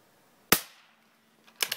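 A Marlin Model 122 .22 rifle fires old CB short cartridges: one sharp, fairly quiet crack with a brief tail, then a faint click and a couple of soft mechanical snaps after it, all close by with no talking.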